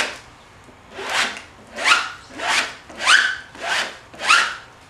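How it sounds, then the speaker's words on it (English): A hand rubs fiberglass cloth laid with resin over surfboard foam, giving six rhythmic zipper-like rasps about once per second, close and clear with no talk. "If you can hear a zipper type sound, that's what you want."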